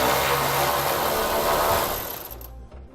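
A power tool whirs loud and continuous as a 13mm bolt is backed out of a truck frame rail, winding down and stopping near the end.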